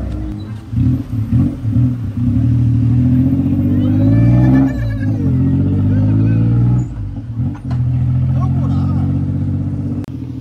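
A tuk-tuk engine chugs steadily during a ride in Pattaya, a close, continuous mid-pitched motor drone with small rises and dips in revs.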